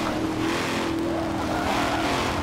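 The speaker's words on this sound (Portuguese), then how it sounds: "O som do motor deste Camaro é muito bacana, mano." A 2017 Chevrolet Camaro ZL1 engine in the racing game Forza Motorsport 7 roars continuously at high revs at Lime Rock Park, loud and close, with a steady droning tone and slight shifts in pitch.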